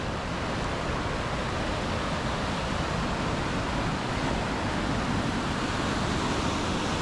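Big rapids roar at Killer Fang on the Colorado River in the Grand Canyon, a steady, dense wash of churning whitewater and crashing waves filling the whole stretch without a break.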